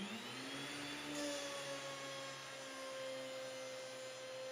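A 13-inch benchtop planer with a helical cutter head runs its final pass, giving a loud steady motor whine with a rising tonal hum as the board feeds through, continuous for several seconds with no talking.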